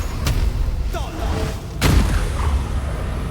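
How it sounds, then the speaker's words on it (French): An explosion spell goes off in the Baldur's Gate 3 video game, with a couple of sharp booming blasts and rumbling impacts amid game sound effects. "Allez, petit jet d'explosion."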